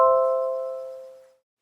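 A Nest doorbell chime plays through an Apple HomePod Mini, a single clear bell-like tone that rings out and decays smoothly over about a second and a half, alone and close.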